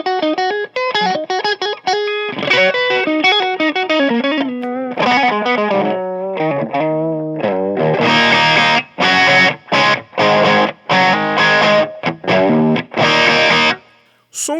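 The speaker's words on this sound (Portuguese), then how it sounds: "Um Marshall com um timbre, tipo, com aquele drive quente, né? De som de power distorcendo." An electric guitar runs through a Collateral FX Unchained Marshall-style drive pedal, first picked melodic lines and chords, then loud, hot distorted power-chord stabs with sharp stops between them, close and upfront.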